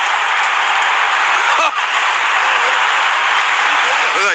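Rugby league crowd at an NRL preliminary final between the Brisbane Broncos and Penrith Panthers in Brisbane, a dense, loud stadium roar of voices chanting and shouting, sustained throughout with a commentator speaking over it.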